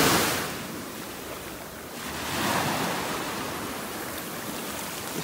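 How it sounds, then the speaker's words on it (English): Ocean waves break and wash over a shell-strewn beach in North Naples, Florida, giving a steady broadband roar that swells gently around the middle, with no voices. "these waves are definitely stirring up the shells down here"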